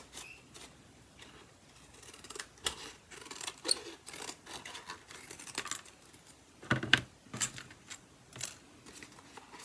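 Scissors trimming paper make close, quiet snips in an irregular run of short cuts, with a few sharper clicks among them.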